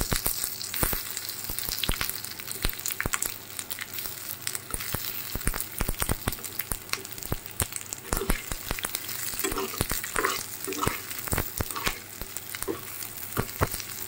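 Steady sizzling of onions and chilies frying in a hot pan, with sharp crackles and pops and occasional scraping as they are stirred.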